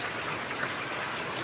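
Heavy morning rain falling outside a house, a constant soft hiss of downpour with no breaks, fairly quiet and even throughout.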